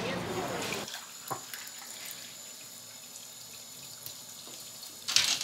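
A kitchen or bathroom tap runs with a steady water hiss, a loud burst at the start and a rushing spike near the end, with a voice briefly heard over it.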